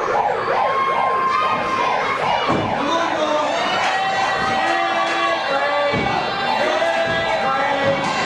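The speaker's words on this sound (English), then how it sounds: "Why am I not surprised that the insanely drunk guy in the crowd brings a megaphone?" A megaphone siren wails loudly and continuously, cycling up and down in pitch, blared by a drunk spectator amid a wrestling crowd, with crowd noise beneath it.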